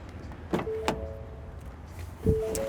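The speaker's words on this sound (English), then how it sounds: "Putting the windows up, going for a little drive." Power windows hum upward in a 2017 Ford Ranger Wildtrak dual-cab ute, two short motor whines heard close inside the cabin with soft clicks around them.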